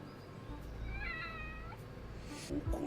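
A cartoon cat in an anime episode gives a single drawn-out, wavering meow over a low background hum, followed by a brief thump near the end.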